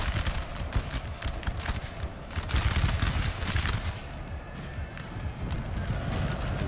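Artillery fire from cannons shooting cluster shot in the video game Napoleon Total War, dense rapid cracks and rumbling volleys layered over a continuous battle din of musketry and horses.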